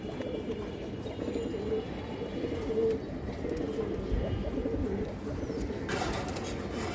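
Pigeons of an old Palla line breed cooing in a loft, low soft repeated coos running continuously at moderate volume with faint background noise.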